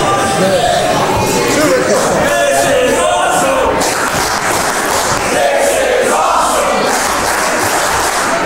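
A capacity crowd fills a pro wrestling venue in Lawrence, Kansas, with loud, continuous roaring, chanting and shouts, while a commentator talks over the din.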